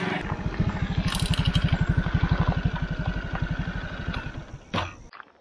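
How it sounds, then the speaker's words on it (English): A postie bike motorcycle rides through the bush, its single-cylinder engine thumping in a fast, steady close-up pulse that eases off near the end. "I can't really go too fast on my postie bike"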